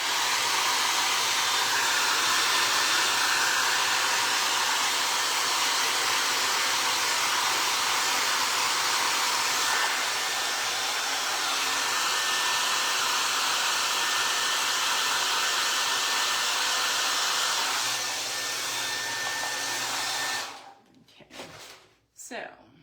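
A hair dryer blows steadily to dry a paper mache craft piece, a loud, constant close whir that runs for about twenty seconds before it is switched off and a few handling noises follow.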